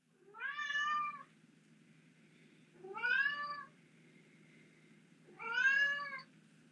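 A cat gives three drawn-out meows, evenly spaced a couple of seconds apart. Each one is clear and fairly close over a quiet room hum.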